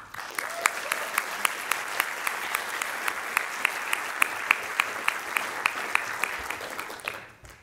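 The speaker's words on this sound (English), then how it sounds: "please give them a huge round of applause" Audience applause at the opening of a React Native EU 2018 tech conference, with sustained clapping from a large indoor crowd and a steady louder clap standing out near the microphone, fading at the end.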